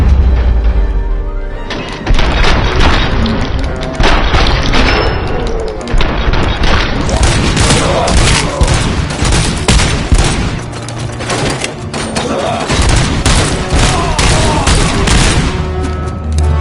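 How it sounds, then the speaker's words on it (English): Grenade explosions in the video game RoboCop: Rogue City, loud dense bursts of booms and gunfire crashing almost continuously, close and overwhelming. "Voilà les grenades, les grenades, les grenades"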